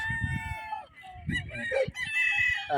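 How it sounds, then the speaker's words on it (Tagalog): Roosters and chickens at a game farm, close crowing mixed with clucks and squawks, several birds calling over one another without a break. "Punong-puno ng mga manok."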